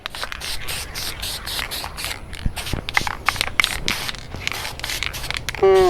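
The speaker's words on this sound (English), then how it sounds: "I'm gonna throw a quick little coat of black paint on this bare metal" A spray can lays a quick coat of black paint onto bare motorcycle-equipment metal: steady hissing bursts at close range, broken by short pauses and handling scrapes, with a brief tonal squeak at the very end.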